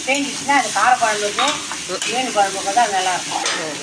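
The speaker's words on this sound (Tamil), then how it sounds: "நம்ம போட்ட வெங்காயம், தக்காளி, இஞ்சி, பூண்டு எல்லாமே நல்லா வதங்கிடுச்சுப்பா" Blood fry sautéing in a pan with onion, tomato, ginger and garlic, a steady close sizzle broken by the scrape and clatter of stirring, with no voices.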